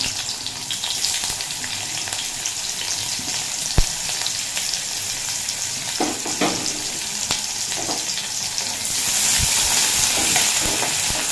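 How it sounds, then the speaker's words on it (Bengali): Chopped onions frying in hot oil in a kadai, a dense continuous sizzle close up with occasional stirring scrapes and a sharp knock, growing brighter and louder near the end, no talking. "তেল ভালো মতো গরম হয়ে গেছে দিয়ে দেব কুচিয়ে রাখা পেঁয়াজ"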